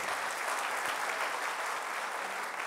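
Sustained, dense audience applause fills a hall at a talk on Swami Vivekananda, a steady even roar of many hands clapping at once with no voices rising above it.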